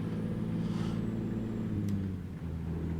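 A heavy 8x4 truck in American Truck Simulator climbs a hill at 2000 RPM, its engine a steady low drone that dips briefly near the end as the throttle eases.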